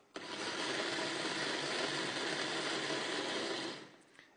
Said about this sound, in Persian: زرشک رو میریزیم داخل این مخلوط کن.